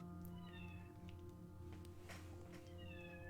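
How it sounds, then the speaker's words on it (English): A cat aboard a ship meows softly a few times over a steady low mechanical hum with tonal drones, distant and faint rather than close. "Someone's got a kitty cat on the ship."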